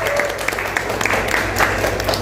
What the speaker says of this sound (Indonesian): Boleh minta tepuk tangan yang paling meriah.